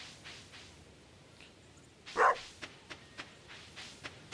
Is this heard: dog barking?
yes